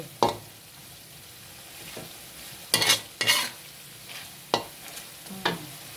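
Pork stir-fried with red curry paste in a pan: a spatula scrapes and tosses in intermittent sizzling bursts, some short and some sustained, close and fairly loud, with no talking.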